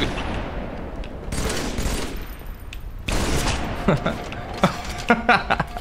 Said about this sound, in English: And I heard people shooting